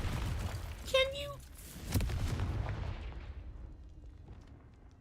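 Confringo fire spell from the video game Hogwarts Legacy bursting with a sharp blast, a high shimmering whine and a rumbling low tail that fades out, with a voice over it.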